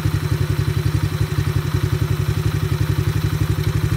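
A Chinese ATV engine runs close by at a fast, even, thumping idle during carburetor tuning, its rapid regular firing pulses steady throughout with a slight mechanical clatter.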